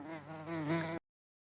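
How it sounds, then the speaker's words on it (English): A bee buzzes in a steady, close drone that swells slightly toward the end, then cuts off abruptly after about a second, leaving silence. "bee"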